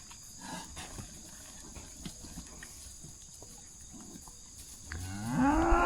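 Cattle at a sale barn: faint scattered rustling and low farm noise, then a loud, close cow moo swelling up near the end.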